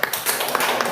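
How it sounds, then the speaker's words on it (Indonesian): Students clap in a classroom, a brief burst of scattered hand claps heard up close and lasting under a second. "beri tepuk tangan lagi."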